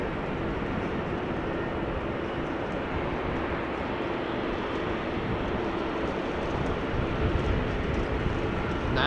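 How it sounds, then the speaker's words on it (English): A Turkish-liveried airliner roars at Amsterdam Schiphol Airport in the rain, a steady, broad engine rush that holds level throughout and blends with the wet weather. "That is a lovely airplane."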